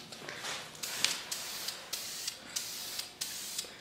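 Aerosol can of VHT roll bar paint spraying a cafe racer motorcycle frame, close hissing bursts repeated in a steady rhythm, with brief clicks between passes.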